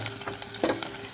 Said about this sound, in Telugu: సన్నగా తరిగిన ఉల్లిపాయలు వేసుకున్నానండి.